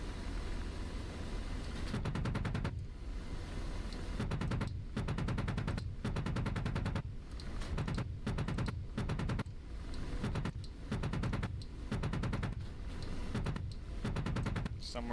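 A UH-60L helicopter combat mission in the DCS flight simulator game, with repeated bursts of gunfire and explosions in a steady rhythm over a continuous rotor and engine drone, fairly faint, with occasional speech.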